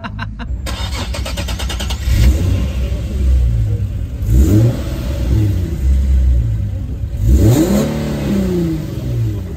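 Loud, close race car at an autoslalom event, an engine cranking and catching, then repeatedly revving with rising and falling pitch over a constant deep rumble.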